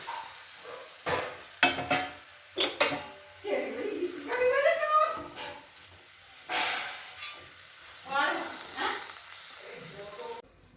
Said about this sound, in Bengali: মশলাটা দিয়ে এবার মাছগুলো আমি দিয়ে দেবো মশলাটার মধ্যে